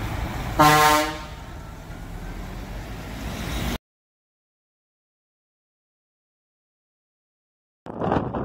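An air train horn fitted to a Scania P310 truck gives one loud, close blast, followed by a droning engine and road noise. The sound cuts to silence, then the engine returns briefly.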